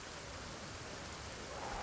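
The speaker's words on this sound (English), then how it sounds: "It's raining." Faint, steady rain hisses evenly throughout in the Project Zomboid video game, a soft wash of noise with no distinct drops or voices.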